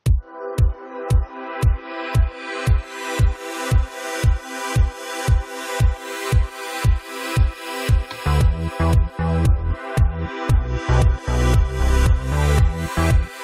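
Synth pad sidechained to a kick drum in Cubase, pumping hard in a steady four-on-the-floor rhythm, the pad ducking sharply on every beat and swelling back between hits; a fuller bass-heavy layer joins partway through.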